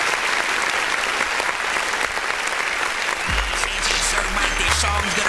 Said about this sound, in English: Why am I clapping for that?